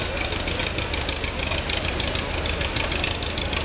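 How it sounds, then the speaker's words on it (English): Big Roy, a 650-horsepower eight-wheel-drive Versatile prototype tractor, runs with a steady, heavy diesel rumble and a knocking mechanical beat, loud and close throughout without speech. "This is an eight-wheel drive tractor, developed 650 horsepower."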